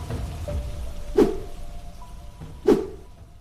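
Rain falling in a Bengali cartoon scene on a rainy afternoon, as two children walk along a road, heard as a soft, steady patter with two brief louder splashy hits, quiet and alone.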